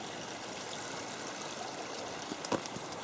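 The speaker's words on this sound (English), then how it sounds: "As always, there's lots of water flowing everywhere." Water flowing in a stream beside a hillside village road in Japan, a steady soft wash of trickling water throughout, fairly distant, with a brief knock near the end.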